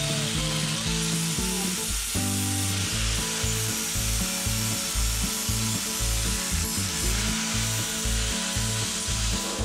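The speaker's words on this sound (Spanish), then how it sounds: "Vamos a pulir la soldadura." An angle grinder grinding and polishing a weld on a metal workshop tool panel, a loud continuous abrasive roar with rhythmic pulsing strokes as the disc is worked back and forth, close and alone.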